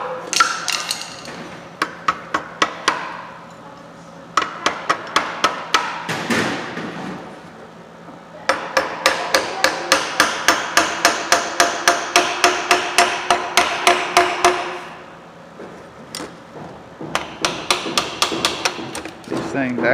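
A hammer taps a metal part during the teardown of a John Deere engine, in long runs of quick, evenly spaced close strikes broken by short pauses.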